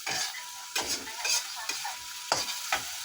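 Dry tempeh fries and sizzles in a pan while a utensil stirs it in repeated scraping strokes, close and steady, with no talking.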